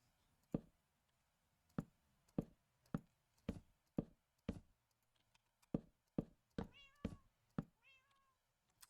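A cat meows in the Minecraft video game, a series of rising in-game cries toward the end, following a steady run of sharp tapping clicks spaced about half a second apart; close and clear with no talk.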